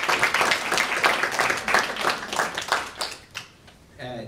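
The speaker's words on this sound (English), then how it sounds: "Get one more round of applause for our new senators." A round of applause for newly seated senators at a student government senate meeting, quick overlapping claps from a modest crowd that thin out and fade near the end before a voice briefly starts.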